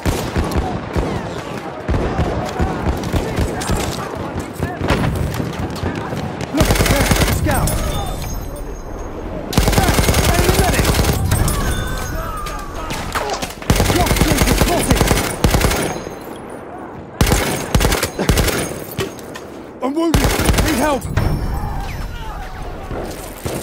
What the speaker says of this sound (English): I'm looking at the machine gun!